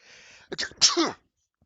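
A single sharp sneeze, close and loud, preceded by a brief sharp intake of breath, then silence.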